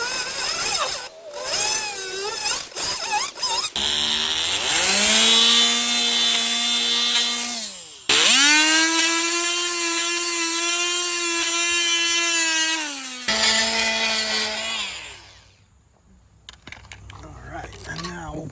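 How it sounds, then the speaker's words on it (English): A power tool whines in long sustained buzzing bursts while starting a cut into wood for a kids' treehouse platform, loud and close, with several runs separated by brief pauses. "Actually, I'm gonna use my multi-tool to get it started."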